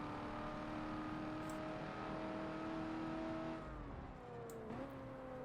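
A Ford F-100 pickup in Forza Motorsport 7 holds a steady, strong engine drone at high revs, then the pitch drops and climbs again as it shifts, with no talk over it.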